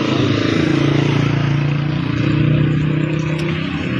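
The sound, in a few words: motorcycle engine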